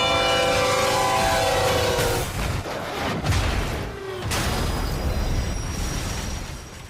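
A 1,000,000-pound freight train rumbles past loudly with a sustained blaring horn blast in the first seconds, followed by a heavy rolling roar and clatter of railcars that continues steadily to the end.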